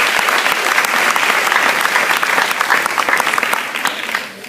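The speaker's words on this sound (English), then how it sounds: "So a big clap for the under 13 girls." A school sports awards crowd applauding the under-13 girls team, dense sustained clapping from many hands, loud and even, tapering off slightly at the end.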